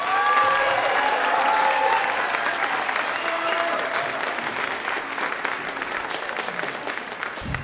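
Concert audience at a middle school spring concert applauding the beginning band, sustained full applause from a large crowd that holds steady and slowly thins, with a few cheers at the start.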